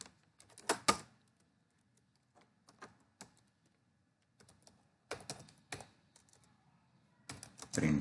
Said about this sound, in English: Now I will type the code.